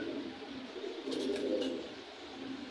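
Pigeons cooing at a busy pigeon market in Bangladesh, a few soft low coos over a steady crowd murmur.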